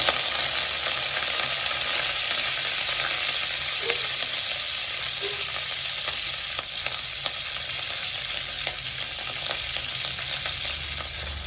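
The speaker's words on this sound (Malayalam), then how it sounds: "കറിവേപ്പില ഇട്ട് കൊടുക്കാം" Curry leaves dropped into hot oil for a Kerala fish curry give a continuous loud sizzle and crackle, steady throughout with a few small pops and scrapes.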